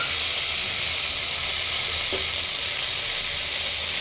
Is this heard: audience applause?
no